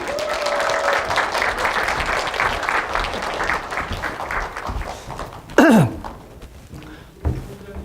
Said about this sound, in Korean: 우리 이분 모실 때 뜨거운 박수로 부탁드리도록 하겠습니다.